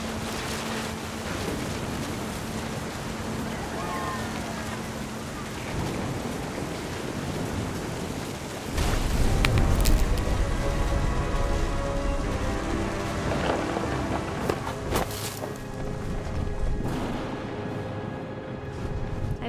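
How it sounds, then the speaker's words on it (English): Rain pours steadily during a storm in the video game What Remains of Edith Finch, with thunder cracking and rolling loudly partway through before the downpour continues under a dense wash of noise. "The thunder sounded much too close and full of angry power."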